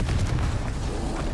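Confringo fire spell explosion in Hogwarts Legacy, a short, dense low boom with rumbling burst that sustains loudly for over a second without any speech.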